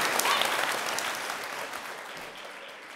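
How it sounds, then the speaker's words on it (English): An audience in a live show venue claps steadily, a dense wash of applause that slowly fades over a few seconds with no talking. "Why don't you give yourselves a big round of applause to start things off?"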